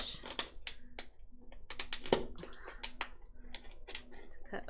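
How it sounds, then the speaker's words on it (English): Scissors snip a hole in a plastic bottle in a series of sharp, irregular clicks and crunches, close and fairly quiet. "So I'm just going to use my scissors to kind of"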